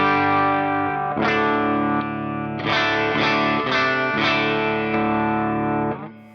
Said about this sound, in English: we're starting off with this clean amplifier, which is a AC30 turned up pretty high, but still fairly clean.